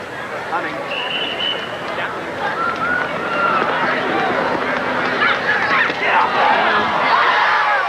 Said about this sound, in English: you can tell the crowd is really behind Larry Myricks, but a big moan goes up